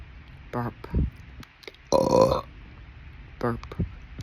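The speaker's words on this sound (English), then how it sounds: "burp" A person burping repeatedly, three distinct deep belches with the longest, loudest one in the middle, close and alone.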